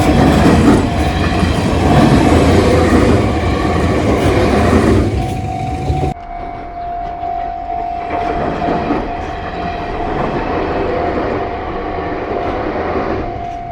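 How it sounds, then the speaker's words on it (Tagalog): A train rolls past the Slam Dunk railway crossing in Kamakura, Japan, loud and close, with a continuous rumble of wheels on rails and a steady high tone as it passes. Nobody speaks. "Okay, so abangan natin yung next train."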